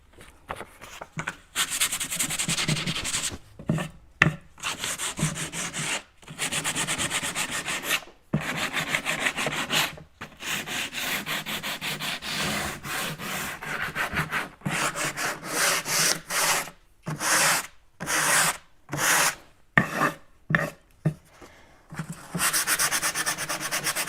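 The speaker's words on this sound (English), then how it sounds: "Does anybody see my sandpaper sanding block?" A sandpaper sanding block rubbing across wooden cabinet surfaces during a paint makeover, making steady back-and-forth scratchy strokes in bursts with short pauses, close and fairly loud, with no talk.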